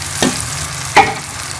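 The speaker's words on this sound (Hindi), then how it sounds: "हम इसे वापस घी में डाल देंगे" Ground masala of chillies and garlic goes back into hot ghee in a pan, giving a close, steady sizzle with two brief scraping stirs.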